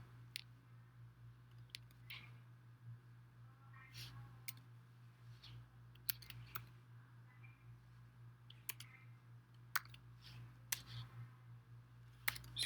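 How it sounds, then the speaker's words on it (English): Slow, sparse keystrokes tap on a computer keyboard while typing in Arabic, faint and irregular clicks spread over a steady low electrical hum. "I'm really slow at typing in Arabic"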